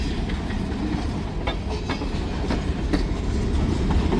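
A freight train hauling pulpwood rolls past close by, a steady rumble with rhythmic clicks and clanks of wheels over rail joints.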